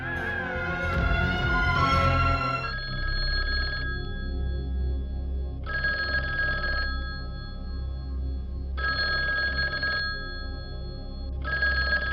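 An old-style telephone bell rings indoors in a house, with a brief burst of other sound at the start followed by four evenly spaced long rings and pauses, loud and without talk.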